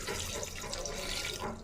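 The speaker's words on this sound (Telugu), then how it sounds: "ఇప్పుడు కొన్ని వాటర్ వేసుకోవాలి" Water poured from a glass into a bowl of sliced tomatoes and tamarind in a home kitchen, a steady close splashing pour running throughout with no talk.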